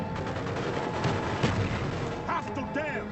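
Repeated booming grenade launcher blasts and gunfire crackle in a dense Call of Duty battle soundscape, with explosive thumps rising above a constant roar of combat.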